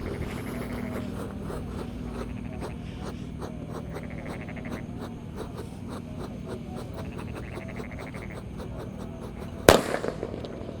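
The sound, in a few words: Disco Happy Flower firecracker set off in the ground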